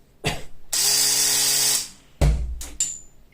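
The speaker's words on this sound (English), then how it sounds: "This is a 540 RC motor, so it is 2000 RPM." A 540 RC motor on a spin-shotgun spins up with a rising high whine that holds for about a second, then winds down, followed by a couple of sharp mechanical clacks.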